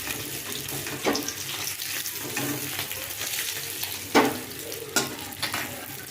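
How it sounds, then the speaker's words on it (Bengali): Rohu fish pieces crackle and sizzle in hot oil, a steady close frying hiss broken by a few sharper spits and stirring clatters. "মাছগুলো সব ভাজা হয়ে গেছে"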